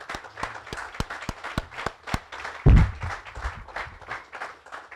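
Scattered clapping from a small audience honoring community board and committee members at a local meeting, a modest round of separate claps with a brief louder bump partway through, no voices over it.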